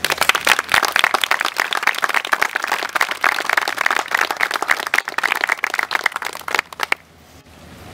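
Wedding guests in Mesa, Arizona break into steady, dense applause right after the vows, many hands clapping close and loud for about seven seconds before it cuts off abruptly to near silence.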